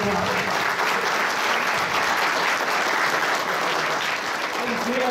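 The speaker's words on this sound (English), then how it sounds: "let's all give a round of applause for Denny and your time" An audience applauds at the end of a comics panel at a fan convention, a loud, dense and continuous burst of clapping from a large crowd.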